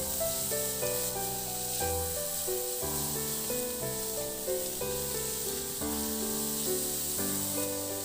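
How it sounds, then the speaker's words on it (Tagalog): Chopped onion sautéing in a pan for an egg and pechay dish, giving a soft, continuous sizzle under steady background music with no talking. "Ilagay ko na rin yung sibuyas. The same process, ihalo hanggang sa mag-translucent."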